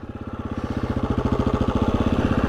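A motorcycle engine revs repeatedly in quick pulses while the rider practises wheelies, close and loud, each rev rising and falling in a steady, slightly quickening rhythm with no talking.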